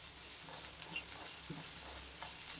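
Spices for a tempering sizzle softly in hot oil in a pan in a home kitchen, with a light steady frying crackle and a few faint stirring scrapes.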